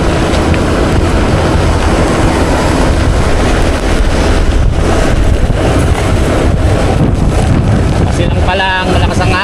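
Strong wind batters the microphone on a road as rain begins, a loud constant roaring buffet with gusty swells throughout and a brief squeal near the end.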